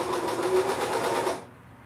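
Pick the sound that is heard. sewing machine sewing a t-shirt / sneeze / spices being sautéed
sewing machine sewing a t-shirt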